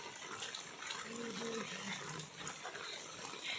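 Steady rain hissing while someone walks outdoors under an umbrella, a continuous wash of close patter with a brief soft voice partway through.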